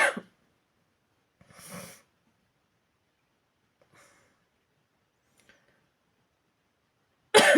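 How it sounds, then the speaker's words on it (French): A few coughs: one sharp burst at the start, a fuller fit a moment later, faint small sounds in between, then another loud cough at the end. "J'en peux plus de cette toux."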